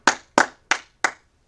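Hand clapping during an online brotherhood class, four sharp, evenly spaced claps close by with brief pauses between, no voices.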